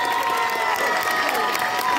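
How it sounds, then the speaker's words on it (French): An audience applauds and cheers military firefighters at an event in Abidjan, a dense burst of clapping mixed with crowd shouts throughout. "On continue de les applaudir jusqu'à ce qu'ils s'asseyent."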